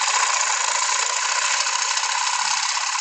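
A wood lathe tool cuts into the heartwood on the bottom of a platter with a steady, loud, high-pitched whirring scrape that holds unbroken and fairly close, with no talk over it.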